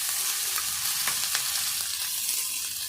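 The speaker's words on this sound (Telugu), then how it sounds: "ఇది కూడా పచ్చి వాసన పోయేదాకా మంచిగా ఫ్రై చేసుకోవాలి" Onion and ginger-garlic paste fry in oil, producing a steady close hiss of sizzling with faint crackles and occasional light stirring scrapes.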